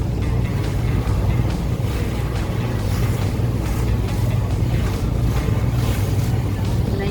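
Steady rumble of a night ferry's engine crossing Hong Kong harbour from North Point to Hung Hom, with water churning and wind noise, continuous throughout with no talking.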